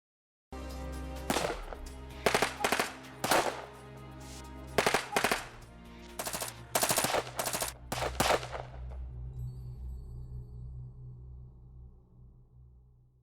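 A shootout between a guard and intruders, heard as rapid bursts and single gunshots in uneven clusters that are loud and close. Echoing reverberation follows, and the shots end about two thirds of the way through, leaving a low hum.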